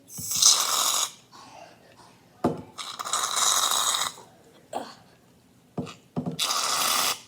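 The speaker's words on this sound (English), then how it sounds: "you want to put a little bit, not that much, but a little bit of shaving cream" Shaving cream squirted from an aerosol can into slime mix, giving three loud close hissing bursts separated by short pauses and softer handling noises.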